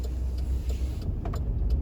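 Honda car fitted with big wheels driving past on a small-town road in Perry, Georgia, a steady low engine and tire rumble heard from inside a vehicle.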